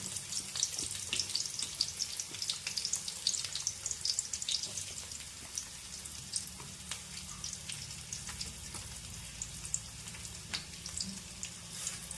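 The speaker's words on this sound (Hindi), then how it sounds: "तो तेल गरम हो गला देखंतु मु आज एबे तापरे देबी पियाज" Onions frying in hot oil for a matar chana curry, a steady dense sizzle with crackling pops throughout, fairly close and even, with no talk.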